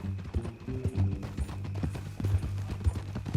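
Hooves of a horse clip-clop steadily in Red Dead Redemption 2, a quick rhythmic patter of close hoofbeats mixed with low tack rattles and a faint hum, with no voices.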